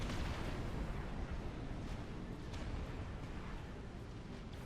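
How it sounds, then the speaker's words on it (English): Hoplite bots in Supreme Commander: Forged Alliance fire volleys of rockets, a dense, continuous rumble of blasts and bursts with a few sharper cracks, fairly faint and without talk. "There's a lot of hoplites in there throwing rockets."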